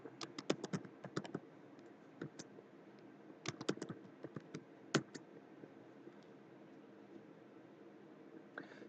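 A new password is typed on a computer keyboard in quick bursts of crisp key clicks, separated by short pauses, close and fairly quiet, then a long near-silent stretch with a few stray taps.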